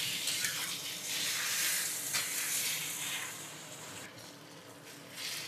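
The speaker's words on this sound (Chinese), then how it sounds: "把两面都煎一下" Tofu pan-fries in hot oil over high heat, a bright, continuous sizzle that swells and eases slightly as the pan is tilted, heard alone without speech.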